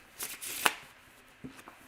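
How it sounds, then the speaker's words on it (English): Playing cards shuffled by hand during a live card magic tutorial, a few quick riffling bursts with one sharp snap, fairly faint and close, no talk. "I'm gonna give these cards a genuine shuffle."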